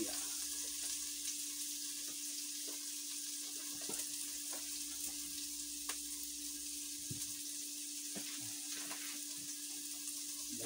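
Garlic and ginger sauté in a pan with a steady, loud sizzling hiss and occasional clicks of stirring, continuous and close with no talking.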